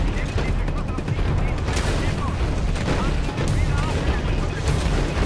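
Gunfire from a first-person shooter game, Crysis Warhead, rattling in dense continuous bursts under a steady wash of battle noise, with occasional sharper shots standing out.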